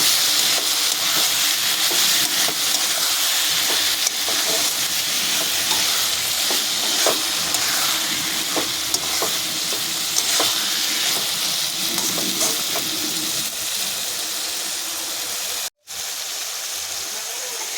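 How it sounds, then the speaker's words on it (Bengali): Fried prawns being stirred into a banana flower and mung dal curry in a pan, giving a steady, close sizzle with repeated scraping stir strokes throughout and a brief break near the end. "চিংড়ি মাছটা দিয়ে আবার একটু নাড়াচাড়া করে নেব"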